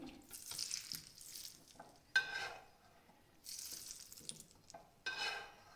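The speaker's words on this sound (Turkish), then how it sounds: "Bak cız diyor. Bu cız sesi daha çok çıkması lazım" Intermittent sizzling bursts from peppers frying in a pan, quiet and close, rising and fading in short waves with light kitchen clatter.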